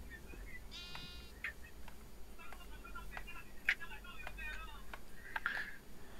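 Sheep bleat repeatedly in a video game, several short wavering calls spaced across the scene over steady low background noise, with people talking in between.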